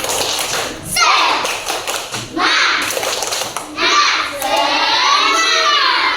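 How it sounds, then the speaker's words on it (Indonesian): Schoolchildren in an Indonesian classroom doing a rhythmic spirit clap, patterned bursts of hand claps alternating with chanted children's voices, loud and close, with a sustained cheer at the end. "Tepuk semangat"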